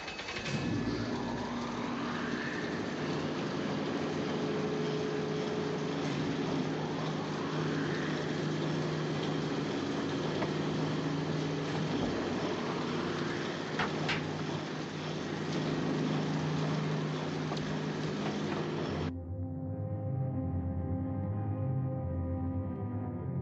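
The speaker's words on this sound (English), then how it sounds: "Start engines." Submarine engines start and run as a steady, loud mechanical drone with a whirring, propeller-like hum for about nineteen seconds, then cut to a quieter low rumble with tonal hums.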